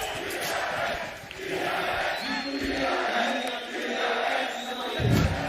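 Esports crowd at a VCT Champions Istanbul Valorant match on Breeze, cheering and roaring loudly in sustained swells with shouts rising above the din.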